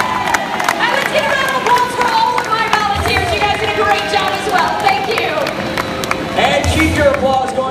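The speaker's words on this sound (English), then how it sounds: "let's get a round of applause for all of my volunteers" A crowd at a live Fear Factor stunt show applauds and cheers for volunteers. Dense clapping and whooping voices carry on continuously and loudly throughout.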